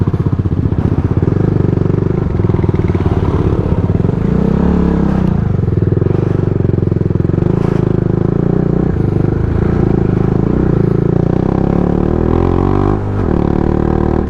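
A Royal Enfield Himalayan motorcycle climbs uphill on a Ladakh mountain road at about 15,000 feet. The engine thumps loud and close with a steady low rumble, dipping and rising as the throttle changes, and clattering underneath throughout.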